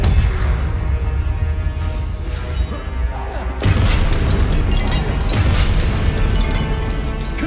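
A Confringo blasting spell goes off in the game Hogwarts Legacy, a loud sustained crashing burst with a second heavy blast partway through, layered over dense battle noise.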